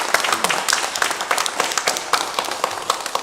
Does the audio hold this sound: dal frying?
no